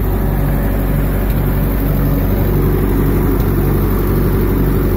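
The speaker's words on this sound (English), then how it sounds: "not sure if you can hear over the noise of the tractor" A loud, steady Ford 9N/2N tractor engine drones close by, chugging without letup for the whole stretch.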